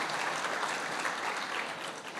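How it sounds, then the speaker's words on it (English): Dense, steady applause from a sizable audience, loud and continuous throughout with no voices standing out. "And that's why I require a round of applause for Kulin Shah and Harsha Agarwal for being"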